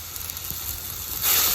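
Spice masala of turmeric, chili, coriander powder, cumin paste and salt fries in a pan with a steady hissing sizzle that swells louder near the end.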